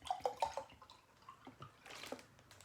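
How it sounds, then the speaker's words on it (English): Jeju bottled water is poured into a glass, giving a few quiet splashy glugs and trickles at close range, with soft dribbling toward the end. "Let me just pour myself a nice glass of Tam Sarsu."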